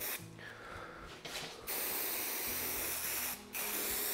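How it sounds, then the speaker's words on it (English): Contact adhesive sprays onto the edge of a cabinet end panel in loud, close hissing bursts, with brief pauses and clicks from the sprayer between passes. "you want to make sure you have the sprayer right up along the edges"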